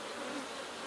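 A dense, steady buzzing of many honey bees fills the air at an opened hive during a beekeeping inspection, the hum constant and close throughout this short moment, with no voices.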